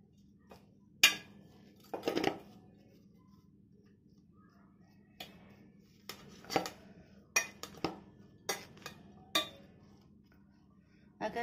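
Sandwich vegetable filling stirred with salt, garam masala and chat masala in a bowl, giving scattered clinks and scrapes of a spoon against the dish, quiet and intermittent with pauses between strokes.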